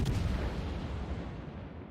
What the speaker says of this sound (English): The opposing Montana is firing on the Hindenburg, obviously.